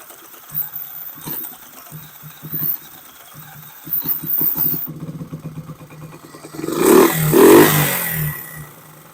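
A Honda SL70 motorcycle engine cranks with a few uneven attempts, then catches and runs with a rapid clattering putter, revving louder toward the end, close by and with no talking.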